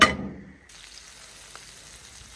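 A spoonful of butter sizzles briefly in a hot pan as fish fatteh is started, a loud first burst that quickly settles to a faint, steady hiss.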